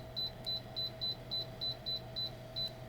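A Shinic infrared heater emits a series of short, evenly spaced electronic beeps, about nine in three seconds, as its remote buttons are pressed, over a faint steady hum.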